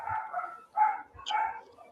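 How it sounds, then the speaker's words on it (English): A dog barks repeatedly in a series of muffled, moderately distant woofs with short gaps between them, heard on their own without talk over them. "You hear the dog barking?"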